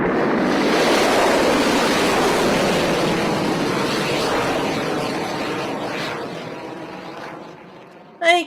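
A rocket engine ignites at liftoff, a broad, loud roar filling the whole clip and slowly fading, with a brief louder burst right at the end.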